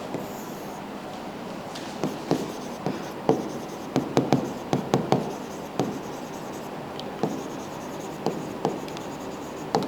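Marker or chalk on a classroom board writing out a chemistry definition, a run of close scratchy strokes and taps in steady bursts under a constant room hiss, with no talk.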